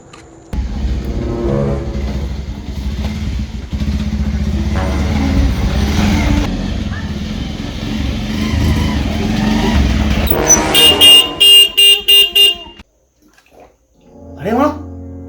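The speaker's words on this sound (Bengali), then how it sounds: "বাইকের আওয়াজ" A motorcycle engine drones and revs for several seconds, then a rapid string of short horn beeps, followed by a brief pause.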